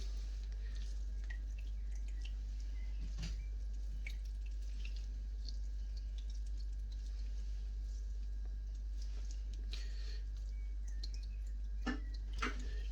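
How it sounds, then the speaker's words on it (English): Faint, scattered drips of whey from squeezed mozzarella curd over a steady low hum, with a few soft wet clicks and no voices. "use your hands, see the liquid just pouring out there"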